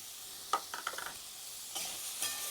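Whole cumin, bay leaves, dried red chillies, cinnamon, cloves, cardamom and black peppercorns frying in oil, with a steady soft sizzle and a few sharp stirring scrapes, brief and fairly faint.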